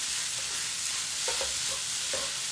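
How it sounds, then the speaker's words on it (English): Veggie fried rice with tofu being stirred in a hot pan: a constant loud sizzle with a few soft scraping strokes of the utensil, close up. "then we can start to stir it a little bit"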